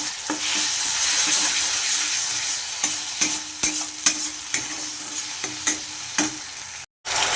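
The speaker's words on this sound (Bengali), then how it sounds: "তো সব মশলাগুলো এবার ভালো করে কষিয়ে নিই" Spices with Kashmiri chilli powder being stir-fried in a pan for a vegetarian cauliflower dish, giving a steady sizzle broken by repeated scraping stir strokes that grow more frequent toward the end, close and fairly loud, with no talking.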